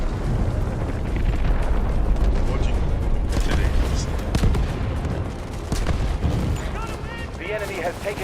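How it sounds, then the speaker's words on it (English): An artillery barrage in the Delta Force video game: sustained rumbling blasts and heavy gunfire layered in a dense battlefield din, with voices mixed in. "Artillery barrage ready."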